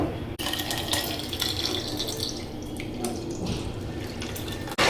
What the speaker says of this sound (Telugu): కరెక్ట్గా నేను లీటర్ పాలండి మొత్తం పోసేసుకుంటున్నాను